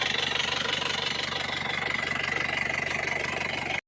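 A car engine idles steadily, close up, with a fast even pulsing throb and a faint knocking texture running unbroken until it cuts off near the end.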